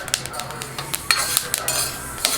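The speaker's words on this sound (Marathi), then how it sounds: "अळशी सुद्धा भाजत आली की त्याचा असा फटफट आवाज येतो हा बघा" Flaxseeds dry-roasting in a pan give off scattered sharp pops and ticks, close and fairly loud, with faint scraping of stirring beneath and no voice.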